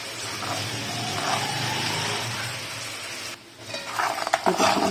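Sugar being stirred in a hot pan for peanut chikki, a steady soft scraping and low sizzle close up, with a brief pause followed by louder clattering stirs near the end.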